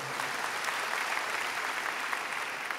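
A church congregation applauds together after a reading, a steady, even wash of clapping filling the room with no voices over it.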